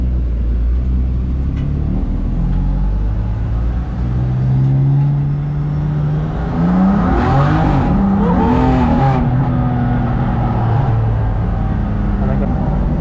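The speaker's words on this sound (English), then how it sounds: "take a short journey back to the Expo in a road legal race car" A road-legal race car runs on the Nürburgring Nordschleife, its engine droning steadily and swelling as it revs up mid-run, heard loud from inside the cabin.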